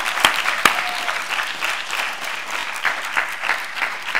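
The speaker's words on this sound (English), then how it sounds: "one more big round of applause for all of our presenters tonight who did a wonderful job" An audience at a math talk night gives a sustained round of applause for the presenters, two sharp nearby claps opening a steady, lively wash of clapping from the crowd.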